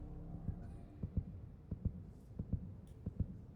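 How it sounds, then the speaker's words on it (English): Heartbeat in the intro of Dreamcatcher's 'PIRI' music video: low, muffled double thumps repeating at a steady pulse over a faint hum, alone without any talk. "The heartbeat, yeah."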